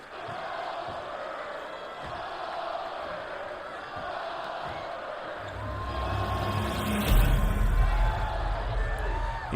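Arena crowd cheering in the wrestling video game WWE 2K23 at a WCW-style show, a steady broad roar that swells louder and heavier in the second half as a heavy low rumble joins in.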